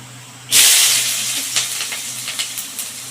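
Onion hits hot oil with mustard seeds and urad dal for a peanut chutney, bursting into a loud, sudden sizzle that settles into a steady hiss with scattered crackles and pops.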